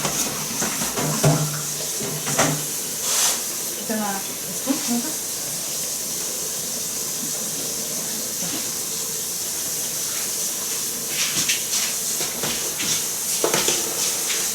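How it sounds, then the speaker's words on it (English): Water bubbles and sizzles softly in a pan of cooking meat for picadillo, a steady hiss with scattered pops, while someone talks intermittently nearby. "you can see it bubbling on the side."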